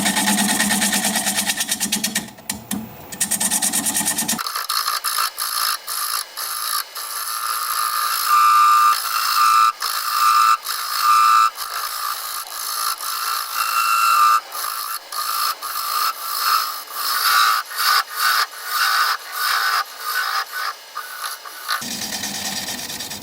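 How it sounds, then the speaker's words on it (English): A wood lathe spinning steadily while a 3/8 inch bowl gouge cuts away the tenon on a cherry plum bowl, scraping and chattering in uneven bursts, with a faint high whine from the motor. "I'm going to take a 3/8 inch standard grind bowl gouge and commence to removing that tenon."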